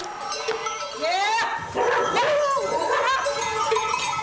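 A herding dog barks among a flock of sheep during a transhumance drive to mountain pastures, with irregular sharp calls over a busy outdoor background of animal cries and bustle.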